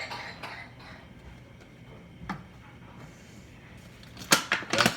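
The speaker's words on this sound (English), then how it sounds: "coughing in the background" A few short, sharp coughs in the background, one faint burst midway and a louder cluster near the end, over quiet room noise.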